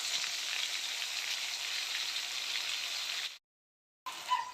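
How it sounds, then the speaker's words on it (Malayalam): Eggplant slices frying in oil in a pan over a medium flame, a steady close sizzle and crackle that runs for several seconds, breaks off briefly, then resumes. "അപ്പോൾ അതാ നമ്മളിവിടെ വഴുതിരിങ്ങ ഇട്ട് കൊടുത്തിട്ടുണ്ട്. അപ്പോൾ ഒരു സൈഡ് നന്നായിട്ടൊന്ന് ഫ്രൈ ആവട്ടെ."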